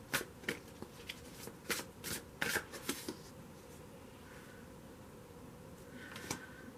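Tarot cards are shuffled by hand in quick riffling bursts, busiest at the start, then thinning out to a few scattered flicks near the end. No one speaks.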